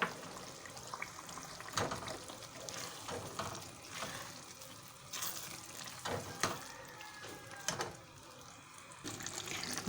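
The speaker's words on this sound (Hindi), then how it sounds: "दही भी अच्छे से भुनना शुरू हो गई है इसकी।" Yogurt fries with minced meat and peas in a pan, giving a soft, steady sizzle and crackle. Faint irregular pops and scrapes sit on top, close by and fairly quiet, with no talk.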